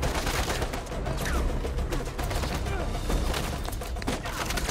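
Shotgun fire in Uncharted 4 gameplay, set in a dense, continuous wash of game combat noise with rapid sharp cracks and impacts throughout, steady and loud with no clear gaps.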